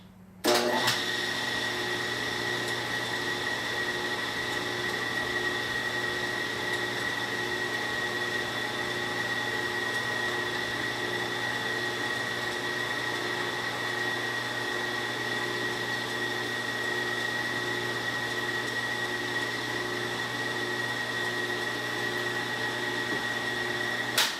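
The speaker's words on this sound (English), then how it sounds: "we're going to make a little dent without taking enough material out to unbalance the piece" A steady whirring machine drone runs continuously for about 24 seconds at even loudness while a small dent is cut into an aluminum front sprocket for a Nitro IronHead motorcycle, a sustained tonal hum with no voices over it.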